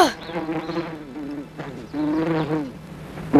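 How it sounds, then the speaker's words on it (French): A loud fly buzzes close by, its drone wavering up and down in pitch across a few swooping passes. "C'est alors que j'ai entendu la mouche."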